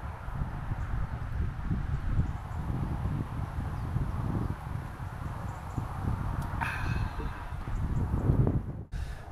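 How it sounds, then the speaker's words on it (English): Wind blowing steadily outdoors at a bushcraft camp, a broad low rumble of gusts buffeting the microphone for the whole stretch with a brief rustle near the end. "It's windy."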